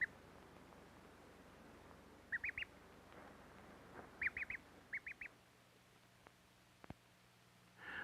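Several short duck quacks from an old 16mm educational film about ducklings, coming in small clusters over a quiet background hiss, fairly faint and distant-sounding, with no talking.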